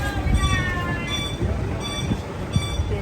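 Electric train passing at a Laos tourist site, a steady rumbling roll with repeated high tonal whines recurring through the passage, fairly close and continuous.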